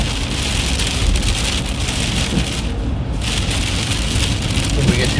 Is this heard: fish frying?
no